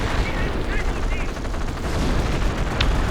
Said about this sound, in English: There's artillery barrage on the pack.